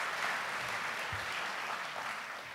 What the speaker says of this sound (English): Your applause is very kind.